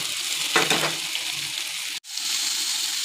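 Spice paste, chopped tomato and green chilli frying with potato and pointed gourd in a pan, a continuous hiss of sizzling with a brief stirring clatter early on and a sudden break partway through.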